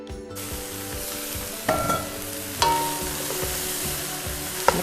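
Black-eyed peas tipped into a pot and stirred, a sizzling hiss with a few sharp clatters and scrapes of the spoon against the pot over a low steady hum.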